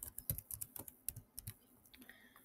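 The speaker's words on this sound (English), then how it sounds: "Then write sudo sudo snap" Fingers tapping out a Linux terminal command on a computer keyboard, a quick irregular run of soft, close keystrokes with brief pauses, quiet and with no voices.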